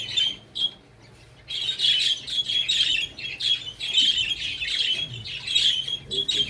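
Show birds, including a sky-blue Texas Clearbody, chirp and squawk in busy, overlapping bursts at a bird exhibition and judging event, fairly loud and close, with a brief lull near the start.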